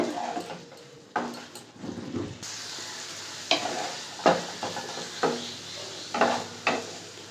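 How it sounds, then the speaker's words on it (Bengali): Leafy amaranth greens with salt and turmeric sizzling in a frying pan, with repeated scraping and clanking strokes of a utensil stirring them, irregular rhythm, close and clear, no voices. "হলুদটা দিয়ে নাড়তে থাকবো"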